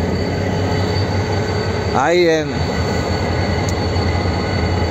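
Tren a las Nubes train in the Argentine Andes near San Antonio de los Cobres, steady loud rumble of the rail cars with a sharp wheel squeal rising and falling for about a second midway, a brief voice heard.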